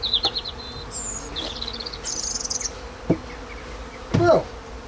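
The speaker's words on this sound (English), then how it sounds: "Look, there's even bees up inside there." Honey bees buzzing inside a hive during an early-spring March inspection, a steady close insect hum with brief louder bursts and scattered clicks, no voices.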